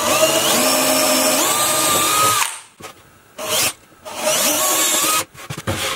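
A power drill bores 5 mm holes through a workpiece, whining loudly in two long bursts with rising and falling pitch, separated by short spins and pauses.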